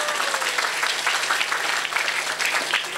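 An audience at an Islamic sermon gathering in Karanganyar applauds, a dense and continuous crowd clapping that stays loud and steady throughout.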